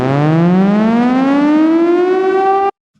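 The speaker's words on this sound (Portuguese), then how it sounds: "é uma sirene de quando toda a esperança está perdida" A civil defense siren wails close and loud, its tone climbing steadily for nearly three seconds before cutting off abruptly into silence.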